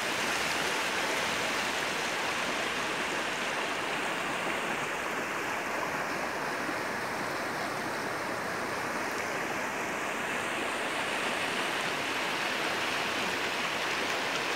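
Broad, continuous rushing of a wide river flowing after a flood, a dense steady roar that fills the whole stretch without pause, close and loud with no voices.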